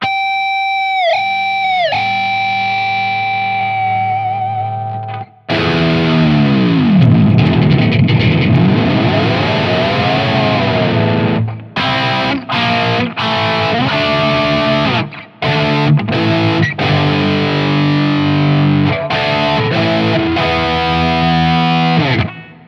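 Distorted electric guitar, a Firefly Warlock with a Floyd Rose tremolo, with whammy-bar dives and rapid warbling flutters, loud and close, broken by abrupt chopped stops and bursts.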